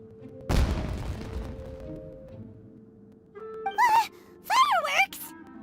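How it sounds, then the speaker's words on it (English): In a video game, a deep booming firework blast goes off with a rumbling tail, followed by characters reacting with exclaimed vocal sounds. "It sounded like fireworks."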